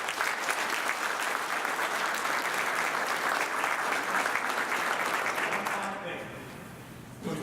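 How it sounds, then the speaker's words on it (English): Sustained applause from a room full of people, steady and loud for several seconds before tapering off near the end. "I think we need to give them a round of applause."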